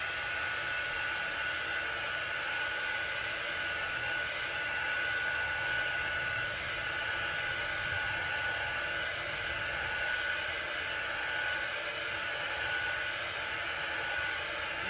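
A hair dryer blows steadily on chalk paste over a St. Patrick's Day chalk stencil design, a constant, even whooshing hum held for about fifteen seconds with no talking.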